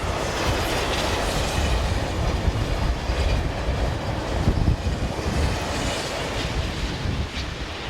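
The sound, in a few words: Z23500 double-deck electric train passing on rails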